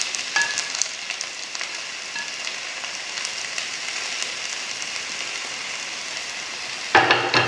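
Hibiscus leaves stir-frying in a pan for thoran give a continuous close crackling sizzle with light scraping, ending in a louder clatter of stirring.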